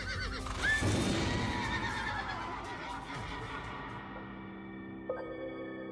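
A horse whinnies loudly up close, followed by hoofbeats and a lingering high ringing tone as the sound settles.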